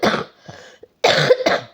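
A woman coughs in a few sharp, close, loud bursts, a hard double cough followed by two more harsh coughs after a short pause, with no talking in between.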